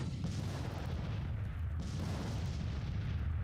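Artillery booms and rumbles continuously in the strategy game Grand Tactician: The Civil War, with dense, low, overlapping cannon fire heard at a distance and no voices.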